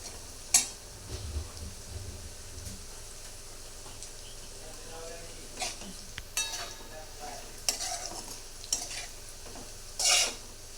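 Soaked sabudana is sautéed in a pan for khichdi, heard as quiet, scattered scrapes and clinks of a spoon against the pan. The strokes come in irregular bursts over a low, soft background.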